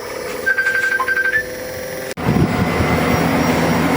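An LG dual inverter air conditioner that showed a CH05 error chirps with a few short electronic beeps, then its fan and compressor start up into a steady, close rushing hum.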